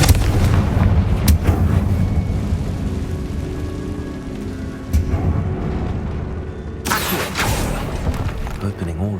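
A fire spell explosion in the video game Hogwarts Legacy, cast inside a tomb: a loud, rumbling blast that booms and crackles for several seconds, then a second burst of noisy crackle, with game sound dense throughout.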